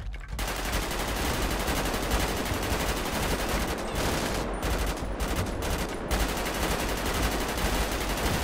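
Rifle bursts in a GTA 5 roleplay army training drill rattle on continuously, dense rapid automatic fire with a few brief gaps, loud and steady throughout.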